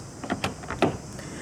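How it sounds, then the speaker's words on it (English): A few quick mechanical clicks and thunks close by, a short burst of latching sounds as a 2014 Hyundai Veloster locks its doors, with low background hum. "To lock the car, press the black button on any of the front door handles."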